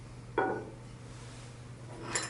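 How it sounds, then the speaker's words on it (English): A frosted white glass bowl from a Hampton Bay Melrose 52-inch ceiling fan gives a single brief clink as it is handled, then a faint second rattle, over a low steady room hum. "You'll have the frosted white glass bowl."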